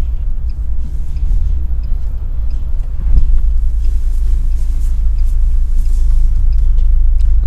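UAZ Patriot with automatic transmission crawling through deep snow in four-wheel drive, a loud, steady low engine and drivetrain rumble that swells slightly partway through, with no talking.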